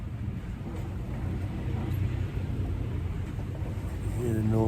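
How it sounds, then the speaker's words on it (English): A sailing boat rushes through the water at over 7 knots, with steady hissing spray and wind buffeting close by, growing louder toward the end. "You hear the noise of a boat."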